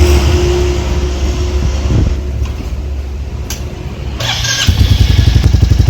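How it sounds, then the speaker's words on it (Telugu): A motorcycle engine in Ooty, Nilgiris, idles with a steady low rumble on a morning warm-up, then revs and settles into a louder, faster throbbing idle as it warms up. "పొద్దున్న బైక్ హీట్ చేయాలి కదా, హీట్ చేసి సెకండ్ స్టార్ట్ అయిపోతున్నాను"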